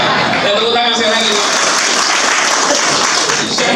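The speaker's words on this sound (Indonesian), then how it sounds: "Dan tepuk tangan saya lagi." Loud, dense audience applause at a political rally and readiness assembly, steady throughout, with crowd voices mixed in under the clapping.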